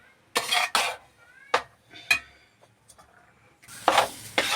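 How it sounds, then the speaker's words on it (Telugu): Fried rice being stirred in a pan, with several loud metallic scrapes and clanks of a spoon against the pan in bursts, separated by short quieter gaps. "రైస్ అనేది ఇలా బాగా తిప్పుకోవాలన్నమాట"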